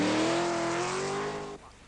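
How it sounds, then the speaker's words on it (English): A V8-engined Triumph TR7 rally car runs a forest stage in a 1980 rally, with a loud, near engine holding a steady high drone. The pitch rises slightly before the sound cuts off abruptly. "giving his V8 engine Triumph TR7 its first forest outing"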